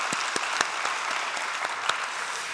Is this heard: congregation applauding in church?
yes